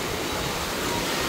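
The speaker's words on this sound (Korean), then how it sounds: "이 정도 파도는 뭐 아무것도 아니지만" Sea waves and surf at an ocean beach used for an aquathlon swim, a steady broadband wash of water with no talk, loud and close throughout.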